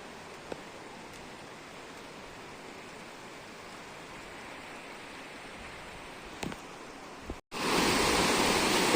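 Rushing water from a waterfall near the Kartik Swami temple, a steady broadband roar heard alone, with a short cut and a louder burst of the same rush at the end.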